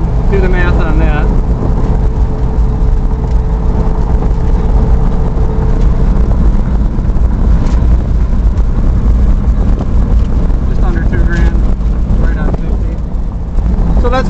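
A 1970 Chevelle SS with a 350 engine cruises at 50 mph around 1800 RPM, its low steady engine drone and road rumble heard from inside the car with heavy wind noise while someone talks over it.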